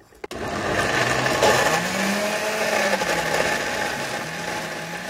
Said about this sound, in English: And you just run the blender really until you see those ice kind of crystals break down